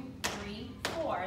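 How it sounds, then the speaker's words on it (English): Hands slap on knees in a jazz dance warm-up, with two crisp, evenly spaced claps a little over half a second apart, heard close over quiet voices in the room. "We're gonna have 4 claps on your knees."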